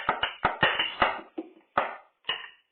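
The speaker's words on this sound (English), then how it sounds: "the measure just played straight through nice and slow sounds like this." A snare drum plays a simple measure slowly and straight through: a short run of close, crisp strokes with brief decays and uneven gaps, the last few hits spaced farther apart.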